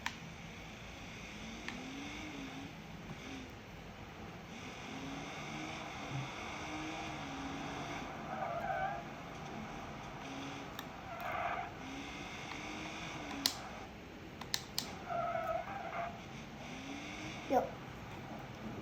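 A car drives and skids with squealing tires, rising and falling under a steady hum, with a few sharp knocks toward the end and a voice talking faintly at times.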